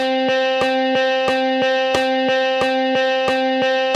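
Steady run of six evenly spaced strums per bar on an electric guitar at 90 BPM in 3/4, bright sustained chord ringing between crisp attacks, close and loud with no voices.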